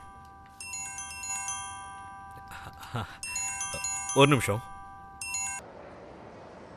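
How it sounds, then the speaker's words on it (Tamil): A mobile phone rings with a bright electronic melody in a school setting, playing in bursts that stop and restart, while people talk over and between the tones. "டீச்சர், உங்க ஃபோன் தான் அடிக்குதுன்னு நினைக்கிறேன்."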